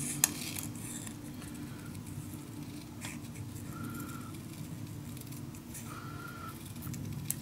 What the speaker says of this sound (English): let's cut this out